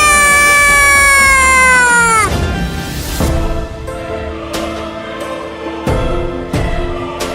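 A cartoon cat meows in an animated Hindi children's cartoon, a loud, drawn-out tonal cry that bends downward, followed by a busy mix of music and effects.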